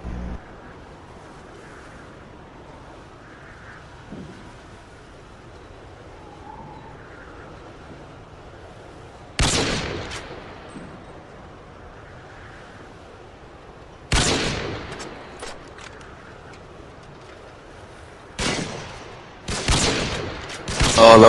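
Gunfire from the video game Rust: long quiet background stretches broken by a few sharp bursts of shots, with a cluster of closer, louder volleys near the end.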